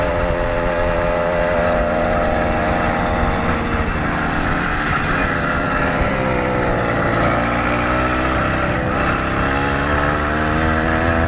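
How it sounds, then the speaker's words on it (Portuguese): Small two-stroke engine on a motorized bicycle, one of four riding together around Pampulha, revving hard and holding a steady high drone close by for the whole stretch with no talk over it. "Aí o Leonardo acelerando aí."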